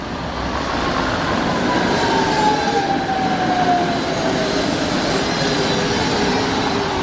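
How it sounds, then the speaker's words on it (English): A tram passing close by on a Prague street, a loud, steady rumble of wheels on rails with a thin metallic squeal gliding downward in pitch, and no talking. "That tram sounded nice and interesting"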